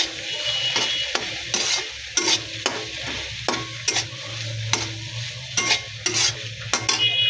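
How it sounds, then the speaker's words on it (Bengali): Noodles and pasta with egg, tomato, cabbage, carrot, potato and beans are stirred in a sizzling pan, a utensil scraping and knocking in a regular rhythm over the steady frying hiss, with no talking. "তো সবগুলো এখন নেড়েচেড়ে মিশিয়ে নেব"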